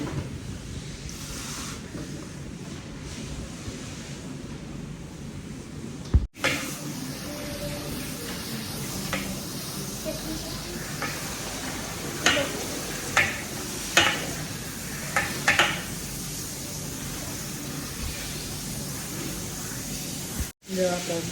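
Water runs steadily at a salon wash basin during a hair wash, a continuous rushing hiss with a few brief splashes and knocks, and voices talk over it.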